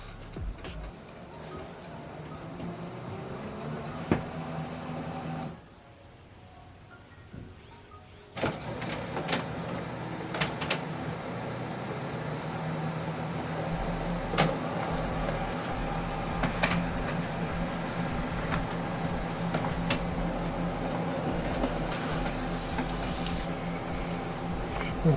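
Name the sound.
HP Colour LaserJet printer printing a document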